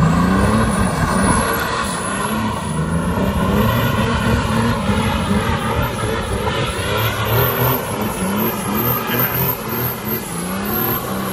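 Loud, continuous roar of a car with an OM606 diesel engine doing a burnout, dense and sustained with wavering pitch and hiss throughout, no talk.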